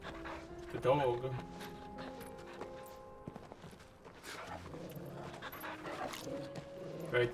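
A dog pants quickly in Final Fantasy 16 on PS5, its rhythmic breaths blending with hoof clip-clops, footsteps and a sustained game music drone.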